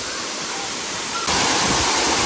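A waterfall near the town of Nice on the French Riviera gives off a steady broadband roar of rushing water that grows suddenly louder partway through and carries on evenly, with no voices.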